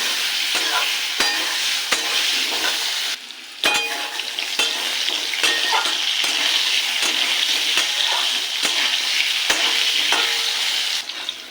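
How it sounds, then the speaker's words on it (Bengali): Potato pieces fry in hot oil with black cumin seeds, giving a steady close sizzle, while a utensil stirs and clinks against the pan at irregular intervals. "আলুটাকে লাল করে ভেজে নিয়েছি"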